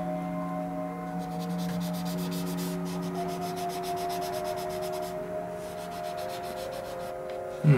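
Continuous rubbing of a polishing cloth or sanding pad over the black-primed plastic body of a Tamiya 1/24 Nissan Skyline 2000GT-R scale model, steady and close, with a faint background hum and no talking.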